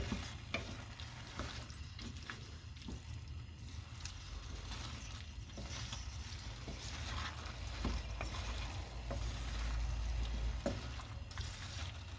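Corned beef pie filling with bay leaves simmering in a pot for a Maltese corned beef pie, a steady soft bubbling and sizzle with faint occasional clinks, no talk.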